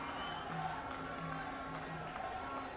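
Steady roar of a football stadium crowd at the India vs Bangladesh SAFF U20 Championship final, a dense distant wash with faint rising cheers, while a voice talks briefly over it.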